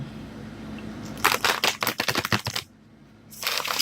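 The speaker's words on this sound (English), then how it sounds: "So let's keep on shuffling." Tarot cards being shuffled by hand, a rapid burst of crisp riffling flutters and clicks, a pause, then another riffle starting.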